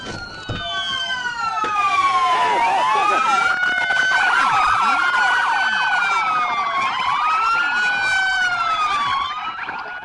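Several police sirens wail loudly and close during a high-speed chase, their rising and falling tones overlapping continuously for the whole stretch over vehicle noise, with no talk.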